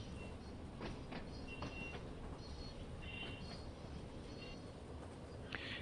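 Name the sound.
train in video game Train Sim World 2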